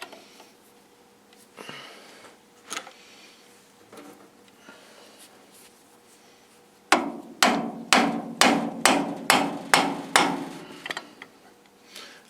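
Rubber hammer tapping on an antique John Deere clutch, first a few scattered light knocks, then a quick run of about nine sharp, even blows, close and clear against quiet workshop background.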